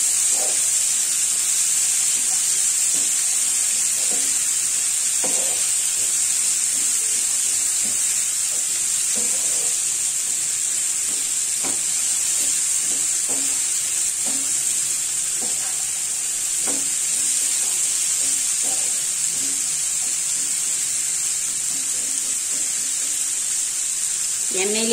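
Ivy gourd (kovakkai) frying in oil for poriyal, a steady bright sizzle with a constant hissing layer, broken by repeated scraping and stirring clicks of a spatula throughout, close and continuous.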